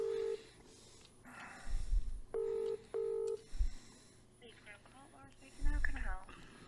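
Telephone keypad dialing tones while placing a call: several short, evenly pitched beeps in separate bursts, with faint background noise and low muffled thumps between them.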